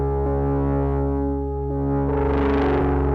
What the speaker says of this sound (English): it creates a cool saturated or distorted effect